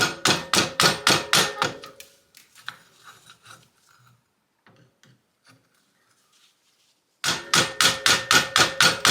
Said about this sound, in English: So I'm going to put a screwdriver in there and just kind of tap it down.